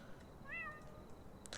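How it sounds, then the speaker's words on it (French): A single short cat meow in the video game Shawarma Anomalies, clear against a quiet hissing background with a brief noise near the end. "Oh, c'est notre chat!"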